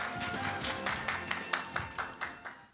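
Audience at a retail logistics forum clapping to welcome a presenter, fairly faint and somewhat distant, the claps thinning into a few sparse, separate hits toward the end.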